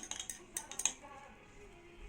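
Metal utensil stirring homemade leave-in hair conditioner in a glass beaker, giving a series of light, close clinks and scrapes in quick bursts, then fading to quieter swirling.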